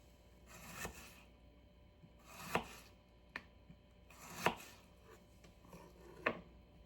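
A knife chops onion on a board in a handful of separate, distinct strokes, with quiet pauses between the cuts.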